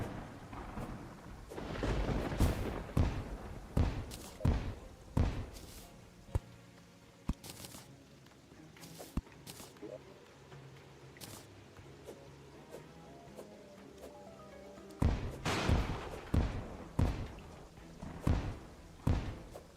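Explosives going off in the video game Terraria: a run of loud, booming thuds with sharp onsets comes in bursts, first clustered early, then sparse, then another cluster near the end.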